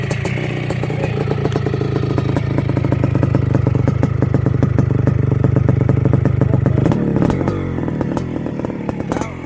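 A restored 1983 Yamaha YZ490 two-stroke dirt bike engine idles loud and close with a rapid, steady, rattly firing beat, then shifts pitch and settles near the end; no one speaks.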